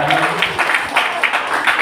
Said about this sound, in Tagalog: Yung palakpak po ng mga anak ng Al-Shaddai.